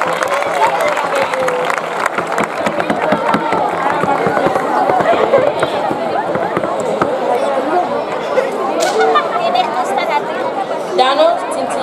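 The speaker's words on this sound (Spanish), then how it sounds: "Un aplauso para ella, vamos a darle ánimo." An audience at a town festival queen's coronation night in Chinchilla applauds a woman stepping up to speak, with scattered claps mixed into steady crowd chatter throughout.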